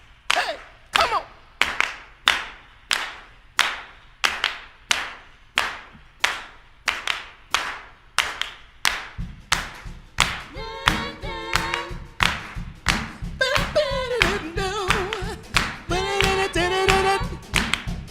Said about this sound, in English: come on and clap your hands now